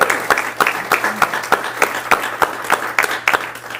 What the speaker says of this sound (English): one more applause for Jerry.